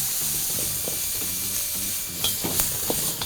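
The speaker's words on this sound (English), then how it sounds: "And then we'll just mash it together and then stir fry it a little bit as well." Sea urchin roe mashed and stir-fried in a hot pan for pancit palabok sauce gives a steady sizzle and hiss. Soft utensil scrapes and taps run through it, and a few sharper clicks come near the end, close up.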